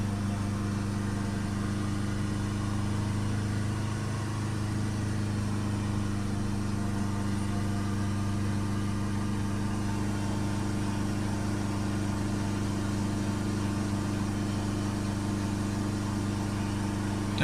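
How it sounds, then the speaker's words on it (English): A car engine idles steadily during a diesel particulate filter check, its low drone close and constant with a slight rise as the revs creep up, and no talking over it. "Sorry, the revs are creeping up again. Just try and hold it steady."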